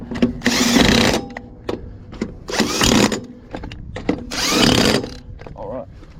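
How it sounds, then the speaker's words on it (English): An impact wrench rattles in three loud bursts of about a second each, with quieter ticks and clicks between them, while working on a car's rear wheel during a wheel cylinder repair at home. "Alright, I've got the impactor here."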